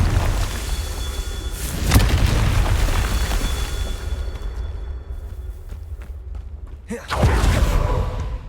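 A Confringo fire-spell blast from Hogwarts Legacy bursts with two heavy booms a few seconds apart, each followed by a rumbling decay, set against steady game ambience.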